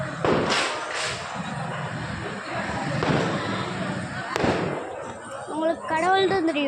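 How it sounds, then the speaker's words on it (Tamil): Firecrackers burst at a Hindu temple, sharp pops and cracks scattered through the clip amid crowd voices and talk, with a louder bang near the end. "அது ஒன்றும் இல்லை கைஸ், பட்டாசு தான்."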